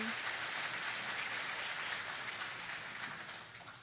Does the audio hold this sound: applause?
yes